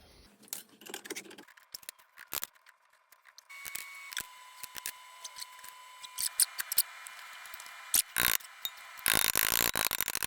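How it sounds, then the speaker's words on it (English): Bar stock being clamped to bend a rust repair patch panel, with sharp ratcheting clicks, metallic clatters and a faint steady hum building toward a burst of rapid clicking near the end. "we're going to go and clamp that in these bar stock here and then get it bent"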